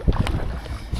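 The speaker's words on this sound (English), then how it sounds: "notice that the wind was picking up." Wind gusting against the microphone while sea kayaking, with low buffeting thumps and rushing noise, close and uneven over a second.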